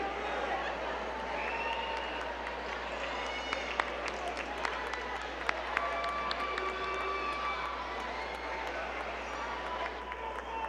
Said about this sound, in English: Give them one more rousing round of applause.